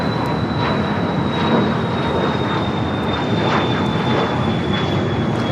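A United airliner at LAX roars steadily on its full-length takeoff roll from runway 25 right, a broad, loud jet rumble with a faint high whine, heard from a distance without any talking.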